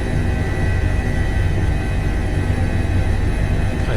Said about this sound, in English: Wondering why this helicopter has come to